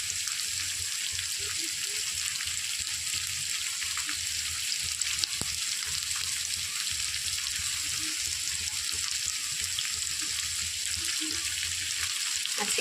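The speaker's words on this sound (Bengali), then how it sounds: "এখন কিন্তু ভাজা ভাজা হবে আলু কুমড়ো" Potato and pumpkin pieces with slit green chillies fry in a pan, giving a steady close sizzle and crackle that runs throughout with no talking.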